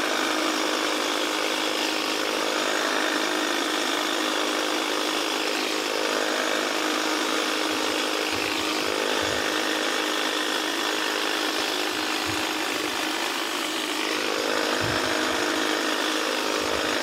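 A Milwaukee M18 cordless hedge trimmer cuts along the side of a cedar hedge, giving a loud, steady, close buzzing whir that runs without a break for the whole stretch.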